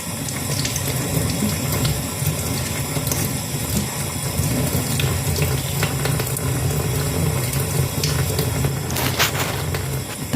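Tap water runs hard and steadily into a sink while raw shrimp are rinsed for a rice dish, a loud, continuous splashing rush with faint clinks, and no one speaks.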